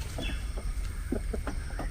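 A chicken that has been pecking at a dog clucks in short, uneven bursts, close by, over a constant low rumbling background.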